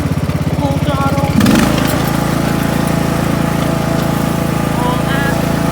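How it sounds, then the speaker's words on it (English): A Craftsman DLT riding lawnmower engine runs at full throttle, a steady loud droning roar after a brief louder surge near the start, with a voice talking over it. "this Craftsman DLT is a very good lawnmower"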